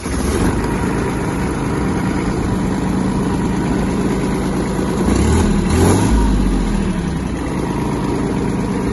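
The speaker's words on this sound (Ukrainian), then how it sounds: "Заведемо даний тракторець." Kubota GB-180 Japanese mini tractor diesel engine turns over and settles into a steady, close idle with a brief swell of revs partway through, no voices over it.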